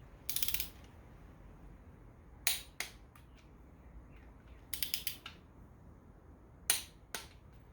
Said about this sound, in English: So with that being said, we're torquing all these down to those specs.